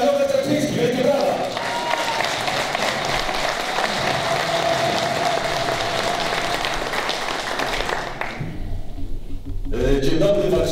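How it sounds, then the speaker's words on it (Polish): Sustained audience applause fills a hall at a Warsaw conference of the nonpartisan local-government movement Bezpartyjni, loud and dense for about eight seconds before dropping off briefly, then starting up again. "Wielkie brawa."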